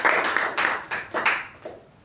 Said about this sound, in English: can we give Toastmaster Madhusudan also a good round of applause?